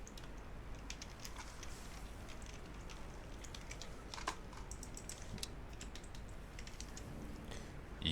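Continuous rapid typing on a computer keyboard at a gaming setup, a dense patter of key clicks running steadily throughout with a few louder strikes, over a constant low background hum.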